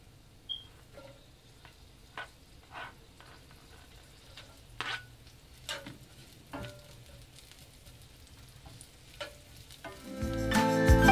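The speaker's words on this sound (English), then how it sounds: "Okay, so the coconut oil is almost melted. I'm going to toss in the onions." Chopped onions hit melted coconut oil in a pan: a few faint clicks and taps, then a loud, rising sizzle bursts in near the end.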